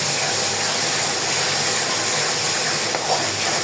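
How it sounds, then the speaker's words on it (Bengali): Garlic and ginger paste with spices sizzles loudly in a hot pan, a dense, unbroken frying hiss held close up for the whole stretch with no voices. "এখানে রসুন বাটা, আদা বাটা অ্যাড করে দিলাম। ভালো করে সম্পূর্ণ মশলাটা ভালো করে ভেজে নেব।"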